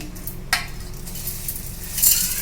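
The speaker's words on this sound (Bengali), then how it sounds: "এটাও কিন্তু আমি মিক্সির জারে দিয়ে দিচ্ছি" Dry flattened rice (chira) pours into a mixer grinder jar in two short, rattling rushes, the first brief and the second a longer, louder spill, both close by with faint kitchen hum in between.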